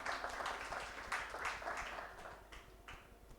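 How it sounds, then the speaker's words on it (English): Audience at a public relations week panel session gives faint, distant applause that starts as a steady patter of many hands and gradually thins and fades out. "So let's clap for that."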